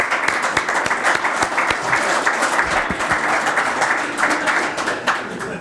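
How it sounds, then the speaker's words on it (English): A roomful of people applaud continuously at a welcome event for Montreal Canadiens executives, a dense, even wash of clapping that holds steady throughout. "Let's give them a big round of applause."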